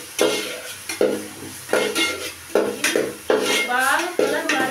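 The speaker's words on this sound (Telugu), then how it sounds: "ఇది నూనెలో వేసుకున్నానుగా బాగా కలుపుకోవాలండి." Cut pieces stirred in hot oil in a pan: a sizzling fry under six rhythmic, evenly spaced clinks and scrapes of a spoon against the metal pan, close and loud.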